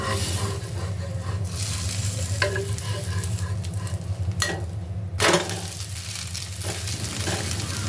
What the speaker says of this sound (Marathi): आपण त्याला उलटवणार आहोत आणि दुसऱ्या बाजूने परत भाजून घेणार आहोत